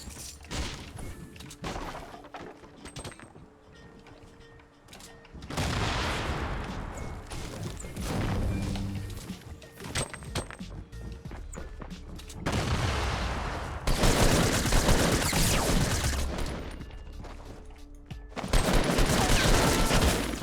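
Burst assault rifles in Fortnite, with repeated clusters of rapid gunfire coming in bursts of several seconds separated by quieter gaps, loud and close, with some thuds mixed in.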